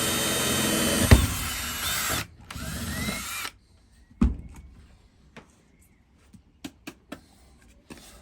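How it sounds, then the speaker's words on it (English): A power drill bores a small hole in the top of a Harley-Davidson 48 fender, loud close whirring in two bursts over about three seconds, followed by quieter clicks and knocks of handling. "just drill this little hole that is in the top of the fender here"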